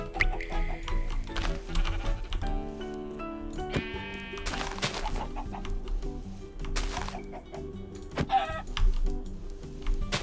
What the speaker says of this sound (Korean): 얘 닭이구나.